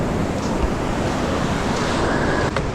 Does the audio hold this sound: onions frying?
no